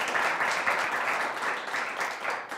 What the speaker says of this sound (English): Let's all give the Reverend Dr. Carlos Ham applause.